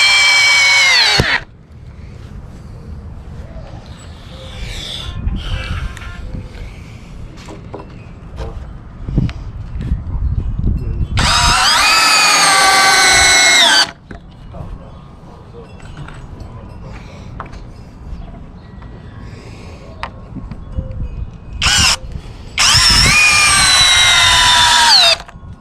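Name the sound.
power drill driving 3-inch exterior decking screws into wood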